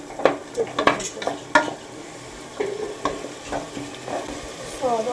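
Vegetables with beetroot and salt being stirred and fried in a pan, with repeated scraping and clinking of a spatula over a soft sizzle, close up and with no talking.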